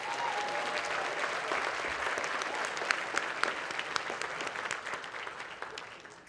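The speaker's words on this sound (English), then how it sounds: "Let's give them another big round of applause." Sustained applause from a large audience at a Boys and Girls Club Youth of the Year event, a dense steady wash of clapping that holds strong before gradually thinning toward the end.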